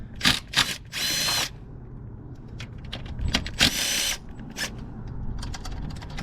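A power tool with a socket spins out 5 mm hex head bolts on a Lexus GS450h during a tune-up, in several short, loud whirring bursts separated by pauses, then quieter clicks and handling noises nearby.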